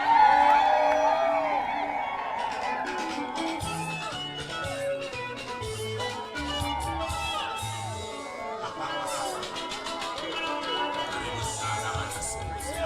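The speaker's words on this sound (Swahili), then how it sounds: "Wapi makofi ya Chafet kutoka kule Kisii?" Outdoor political rally crowd in Kisii, Kenya, cheering and whooping for Chafet, a loud sustained roar of voices and applause with a musical tone layered over it, steady throughout.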